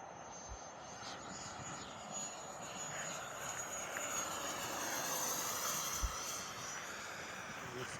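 An FMS 70mm T45 Goshawk electric ducted-fan RC jet whines overhead with a steady high-pitched rushing hum, swelling slightly as it passes, over windy outdoor noise.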